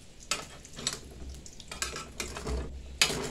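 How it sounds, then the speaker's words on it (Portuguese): Food fries in a pan on a wood-fired stove, giving a soft sizzle with intermittent stirring scrapes and clinks of the pan, fairly quiet and without talk. "já tá fritando rapidinho lá, seu Carlos."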